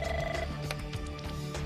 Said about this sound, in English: heard his phone ring.